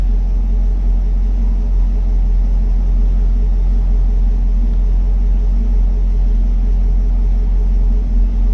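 A 2020 Chevrolet Camaro SS V8 idling just after a cold start, a steady, deep, continuous rumble that holds an even level throughout with no voices.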